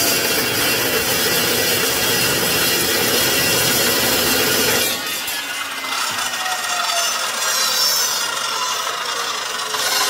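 Metal-cutting saw with costly blades slicing through an axle mount, a loud grinding, rasping cut that runs steadily and then eases to a quieter ringing spin-down, with no talk.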